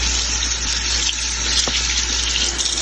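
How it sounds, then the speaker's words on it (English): Radish greens rinsed one leaf at a time under a kitchen tap, a steady close hiss of running water splashing into a sink with no break and no talk. "I'm gonna just start taking these out piece by piece and actually rinsing every single leaf"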